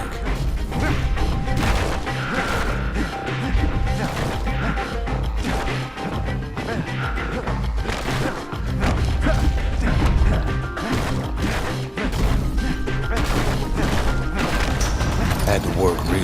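Junk being smashed in a yard in the action game Bastion, with heavy crashes and thwacks repeating over a constant loud music and effects bed, dense and busy throughout.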